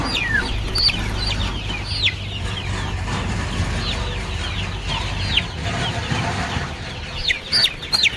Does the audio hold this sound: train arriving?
no